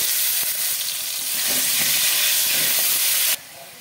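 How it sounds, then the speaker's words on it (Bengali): Potatoes frying in hot mustard oil with a little turmeric, a loud continuous sizzle and hiss with faint scraping stirs, cutting off abruptly near the end. "তেলটা গরম হয়ে গেছে, দিয়ে দেবো অল্প হলুদ। আলুগুলো আমি ভেজে নেব।"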